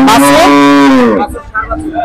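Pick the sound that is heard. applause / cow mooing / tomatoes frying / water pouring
cow mooing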